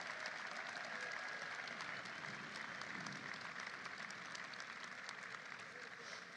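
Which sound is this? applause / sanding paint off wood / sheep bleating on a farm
applause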